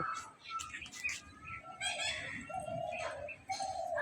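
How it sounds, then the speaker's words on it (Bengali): Several birds chirp and twitter in quick, overlapping calls, moderately close, with a faint steady background hum and no voices. "পাখির শব্দ"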